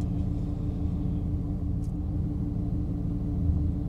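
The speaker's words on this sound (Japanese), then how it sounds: "このように止まってアイドリングしている時はウィンウィンウィンウィンウィンウィンウィンウィンという音が" A Porsche 911 Carrera engine idles steadily nearby, a low continuous rumble carrying a constant droning whine from the rear, with no voices.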